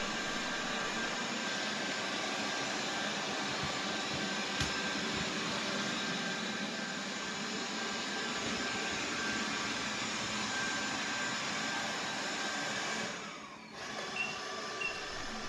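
A CONGA 3090 robot vacuum cleaner runs with a steady, loud broadband whir and motor hum, unbroken for most of the time before briefly dipping near the end.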